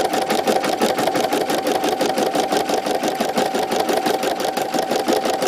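An embroidery machine stitches a design through fabric with heavy backing material. It makes a steady, fast, rhythmic whirring and clatter that stays close and constant with no talking.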